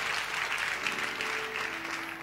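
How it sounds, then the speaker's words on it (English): Sustained applause from a church congregation, dense and steady throughout with no pauses, filling the space at moderate volume. "Give yourself a round of applause"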